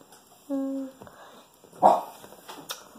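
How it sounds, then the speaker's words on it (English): A dog gives a short whine-like yelp followed by a sharper bark, both close and fairly loud, with a faint voice in the background. "Because my dog's barky."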